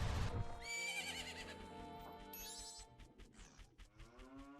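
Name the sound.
horse Epona neighing in Zelda: Majora's Mask video game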